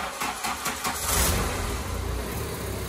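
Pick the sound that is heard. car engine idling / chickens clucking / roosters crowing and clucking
car engine idling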